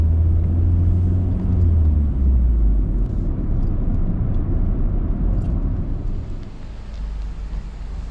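A car with a bike rack reverses slowly on a driveway, its engine a deep, steady rumble up close that gradually eases and softens toward the end, with no voices.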